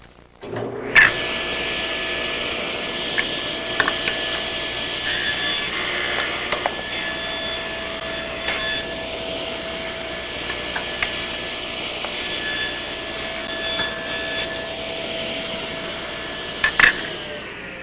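A table saw making compound miter bevel cuts runs with a steady, loud mechanical whir. Brief sharper bursts rise as the blade bites into the wood, and no one speaks.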